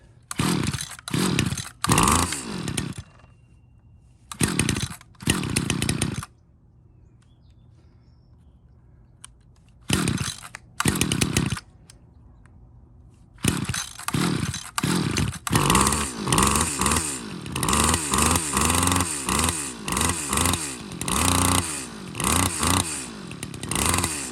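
A Stihl FS74 string trimmer's small two-stroke engine, just fitted with a new carburetor, fires in short loud bursts that die out, then keeps running steadily with uneven revving, close by.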